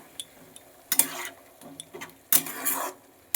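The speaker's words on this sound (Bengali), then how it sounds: "এবার একটু নাড়াচাড়া করে" A spoon scrapes and stirs mixed winter vegetables with water and garam masala in a metal kadai, making two sharp rasping strokes close by with quiet pauses between them.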